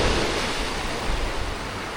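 Sea waves washing onto a beach in Qingdao in autumn, a steady broadband surf wash with no pauses, fairly loud and close, with no voices over it.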